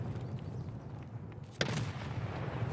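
A muffled grenade explosion in Escape from Tarkov bursts midway through, a single sharp blast followed by a rumbling tail over steady low background noise.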